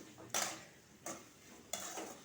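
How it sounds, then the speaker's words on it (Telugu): Salted radish (mooli) pieces fry in a pan for a stir-fry and are stirred, giving three quiet scraping sweeps over a faint, soft sizzle. "ఇప్పుడు ఇది బాగా వేచుదాం."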